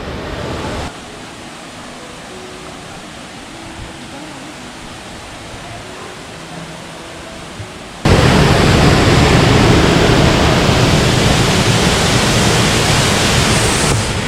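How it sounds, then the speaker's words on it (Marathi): Mahuli waterfall near Mahuli Fort in Thane, heard as a steady broadband roar of falling water, moderate at first and then much louder and closer from about eight seconds on, with no talking. "खूप मस्त धबधबा आहे"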